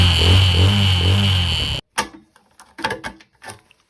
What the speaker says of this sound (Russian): И вот как это звучит, когда мопед работает.